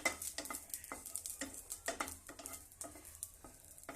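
Tempering spits and crackles in a pan for a dal and fenugreek-leaf stir-fry, sharp spluttering pops bursting in quick irregular clusters over a low sizzle, close and alone without speech.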